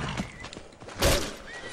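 A horse in the video game Skyrim lets out a single loud, breathy whinny partway through, with faint hoof and movement noises around it and no talking.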